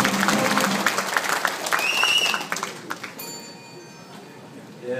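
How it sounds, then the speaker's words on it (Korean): Party delegates at a Democratic Party convention in North Chungcheong applaud a candidate's entrance, clapping dense at first then thinning, with cheers, a voice over a loudspeaker and a few bright ringing tones toward the end. "뜨거운 박수로 맞아주십시오"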